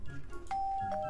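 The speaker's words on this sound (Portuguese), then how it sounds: "Eu vou tocar a campainha dela." A doorbell in the Minecraft video game rings with two clear sustained electronic tones, a ding-dong, close and loud over faint background sound.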